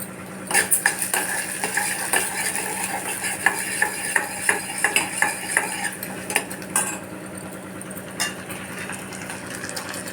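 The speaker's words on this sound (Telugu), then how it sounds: "కొంచెం మంచిగా గోల్డెన్ కలర్ వచ్చేదాకా ఎంపుకోవాలి." Metal spoon scraping and clinking in a pan as lentils, mustard seeds and dried red chillies are stirred while frying, a quiet sizzle underneath with repeated close taps of cutlery.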